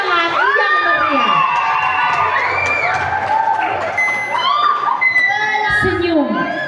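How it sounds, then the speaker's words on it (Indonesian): Lively crowd at a primary school graduation event greeting a children's creative dance, with loud cheering, whoops and high children's shouts layered over clapping, continuous and close. "dengan tepukan tangan yang meriah"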